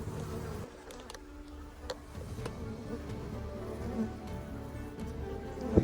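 Honey bees hum and buzz steadily around an open backyard hive during a honey harvest, a soft, continuous droning close by with occasional louder passes and faint handling clicks, no voices.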